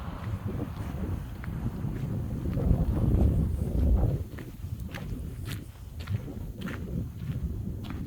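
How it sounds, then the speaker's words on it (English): Steady wind buffeting a microphone outdoors by a river bridge in the Rocky Mountains, a low roaring rumble that swells and eases, with faint scattered taps and rustles. "it is so windy out"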